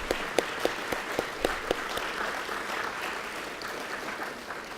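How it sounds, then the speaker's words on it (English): Audience applause for Rotary board members at a lunchtime State of the City address, opening with several distinct claps that quickly merge into a steady, moderately loud wash of clapping from a crowd. "please join me in giving them a round of applause"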